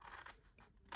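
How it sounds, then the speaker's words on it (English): Scissors snip along the score line of a paper box, giving a short, quiet, close crunching cut with a brief burst of sound at the end. "you're going to cut up on this score line at the bottom"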